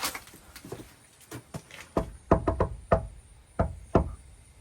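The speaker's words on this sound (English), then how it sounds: "I like to knock. I got to knock back once." A series of sharp knocks on a hard surface in an old structure, first faint and scattered, then louder and more regular, close and unaccompanied by talk.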